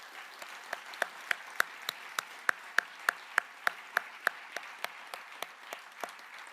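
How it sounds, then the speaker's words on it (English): Applause from a youth homelessness summit audience for sponsors, presenters and young leaders, fairly faint, with one or two hands clapping loud, near and evenly paced over a softer crowd background. "Can we give them, our sponsors, presenters, young leaders, and community supporters a big round of applause?"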